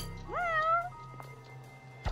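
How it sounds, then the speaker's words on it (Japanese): A single rising meow from a cat in the video game Judge Eyes, clear and fairly close, followed by a quiet pause and a soft knock. "こんなところに猫がいるぞ。"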